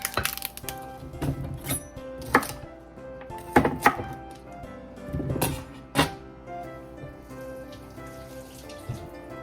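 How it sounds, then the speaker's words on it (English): Celery stalks getting a rough chop in a food processor in a home kitchen, heard as irregular sharp clattering bursts of blade and bowl noise separated by short quieter pauses. "I add those in my food processor. Give them a rough chop in there as well."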